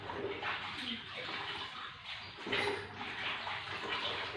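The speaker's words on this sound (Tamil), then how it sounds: "இந்த மாதிரி துணியை வந்து அலசிடணும்" Cloth is swished and rinsed in a basin of clean, soap-free water, giving soft irregular splashing and sloshing close by at a low level, with no clear talking.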